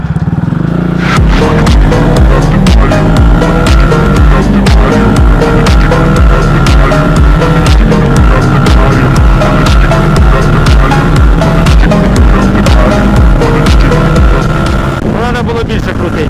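A Loncin CR4 250cc motorcycle engine drones loudly and steadily, accelerating from a standing start and climbing in pitch through the gears, close and continuous, with rushing wind noise throughout.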